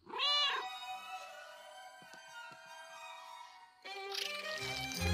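A cat lets out a long, drawn meow that starts loud and close, holds steady, then fades, and a second meow follows.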